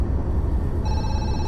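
An electronic phone ring in the horror zoo game Zoochosis cuts in partway through, a steady bright tone held over a low rumbling background hum.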